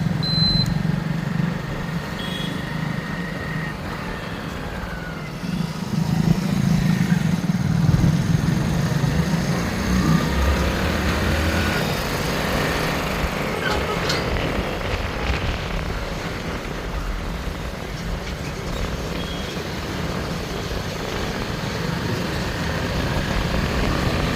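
A motorcycle engine drones steadily throughout while riding, with continuous wind rush and road noise and no talking.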